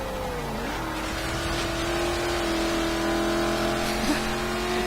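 A V8 engine in an HSV GTSR race car in Forza Horizon 3 drones steadily at a high, sustained pitch, rising through a gear change early on, then holding a loud, even roar with little variation.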